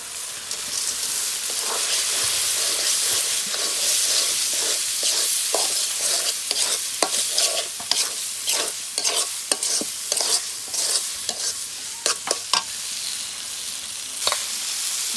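A spice mix frying in a pot for khichuri: a continuous loud sizzle with frequent crackling pops and scraping stirs, no talk.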